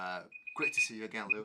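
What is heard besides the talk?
alarm going off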